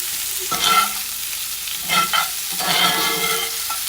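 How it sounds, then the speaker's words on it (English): Peppers and onions sizzle and crackle in a hot pan, with bursts of scraping and stirring at a steady, close-up pace and no talking. "I'm going to keep stir frying this down to soften them up a little bit."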